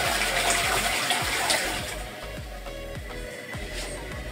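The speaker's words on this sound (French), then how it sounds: "tu tires la chasse d'eau" A toilet being flushed, a loud rushing gush of water swirling down the bowl, strong at first and easing slightly as it continues.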